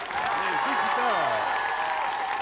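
Audience applause on a French hidden-camera TV show, steady broadband clapping throughout with a voice speaking over it near the start.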